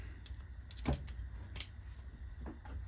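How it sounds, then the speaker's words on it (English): A small DeWalt 1/4 and 5/16 inch flip socket set is flipped and handled, producing a few close, sharp plastic-and-metal clicks and clacks scattered over a quiet background, with no talking. "right here is a little DeWalt flip set, 1/4 inch and 5/16. It flips,"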